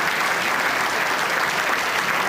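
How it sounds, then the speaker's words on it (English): A City Club of Chicago luncheon crowd applauds Illinois Attorney General Lisa Madigan, a short, dense, steady wash of clapping with no voices over it. "How about a round of applause for Lisa Madigan?"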